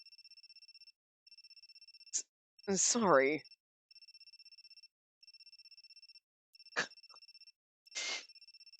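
Telephone ringing in the visual novel game Amnesia Later x Crowd: a steady electronic ring tone repeating in regular bursts with short pauses, broken by brief sound effects and a short spoken line.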